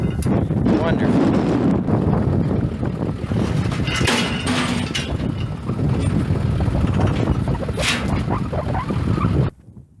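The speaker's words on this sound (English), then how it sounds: "I hate wind noise in a video anyways." Gusty wind thumps and rumbles against the microphone outdoors on a farm under muffled talk, then cuts off abruptly near the end.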